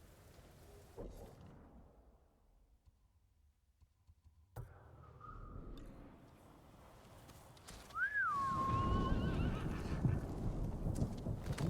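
A horse whinnies clearly partway through a video game scene in Ghost of Tsushima, with hoof clip-clops and a steady rain-like hiss in the background; quiet at first, louder later.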